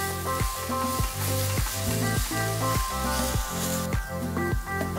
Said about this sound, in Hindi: ये लगभग 200 ग्राम खोवा है, इसे भी हम अच्छा सा भून लेते हैं